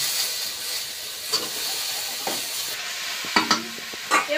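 Vegetables and crab fry in a pan, a steady close hiss and sizzle with a few scraping stirs and clinks near the end, no talking.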